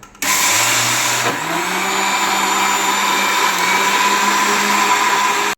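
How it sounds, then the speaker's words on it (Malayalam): A loud electric blender blending lime juice whirs continuously after starting up, its motor pitch shifting slightly as it runs, with no talking. "അപ്പോൾ നമുക്ക് ഈ ബ്ലെൻഡർ ബ്ലെൻഡ് ചെയ്തെടുക്കാം"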